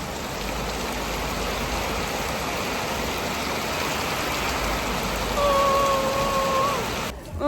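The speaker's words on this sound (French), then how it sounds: "Après le 2571e épisode de pluie de la journée" Heavy rain downpour pouring steadily and loudly onto surfaces, a dense continuous wash with a short tonal whistle near the end.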